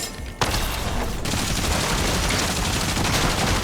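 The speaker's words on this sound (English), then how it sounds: "Or just accidentally hit me with a mammoth pistol." Mammoth pistol fire in Fortnite comes as a sudden loud shot followed by dense, rapid gunfire and booms that carry on to the end.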